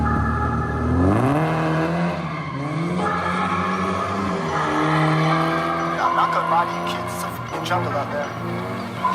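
A Nissan 240SX with a rebuilt KA24DE engine drifts on a street, the engine revving and changing pitch loud and close while tires squeal in bursts, with music playing underneath.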